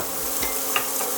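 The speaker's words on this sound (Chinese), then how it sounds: "我们再加1汤匙的油，然后把姜放进去" Ginger frying in a tablespoon of hot oil in a heated wok gives a loud, continuous close sizzle with faint stirring clicks, no speech over it.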